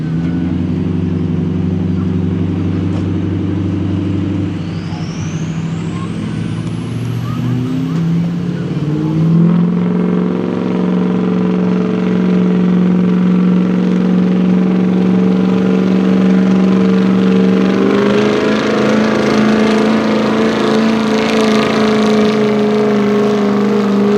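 A 2003 Ford Power Stroke diesel pickup roars loudly at a truck pull in Fishersville, Virginia, its engine note climbing steadily in pitch as it revs and strains under load over a long, continuous pull.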